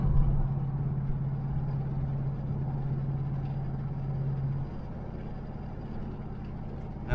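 A 1978 El Camino SS engine running while driving, a steady low drone with a humming tone that drops away partway through, leaving a slightly quieter rumble to the end.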